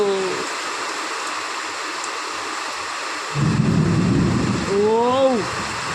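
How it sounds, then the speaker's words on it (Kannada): Summer night rain falling in a steady broadband wash, with tonal voice-like sweeps and a louder low rumbling burst midway, continuous and close. "ಬೇಸಿಗೆ ಮಳೆ"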